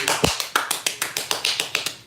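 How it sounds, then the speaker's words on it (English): Loud hand claps in a quick, even rhythm, about a dozen sharp smacks close by, standing alone without talk. "Those some loud claps."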